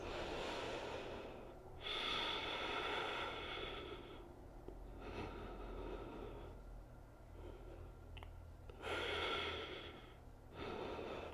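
Slow, deep breaths during a yoga pose, four long inhale-exhale cycles rising and falling steadily, close and soft with no talking.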